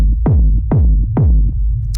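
Deep techno kick drum fattened with drum bus processing, three heavy booming hits spaced evenly, each with a pitch-dropping thud, loud and alone.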